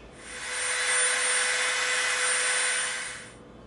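A Dremel rotary tool grinds the edge of an EVA foam piece with a steady high whine that ramps up, holds evenly for about three seconds and winds down at the end.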